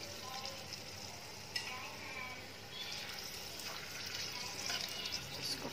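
Dried red chilies and bay leaves fry in hot oil in a pan, giving a soft, continuous crackling sizzle at a low level, with faint clatter and no speech.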